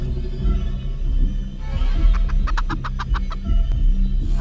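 Chickens in a video game cluck in a quick run of short, evenly spaced calls over a steady low rumble of game sound, fairly close and clear.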